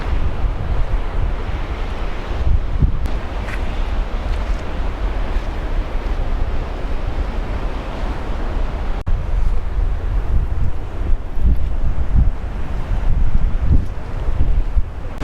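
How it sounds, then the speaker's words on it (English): Rushing water at the top of a waterfall on a Yosemite mountain: a steady, loud broadband roar that runs the whole time, with wind buffeting the microphone. "Top of the waterfall is right over here, so we'll check that out"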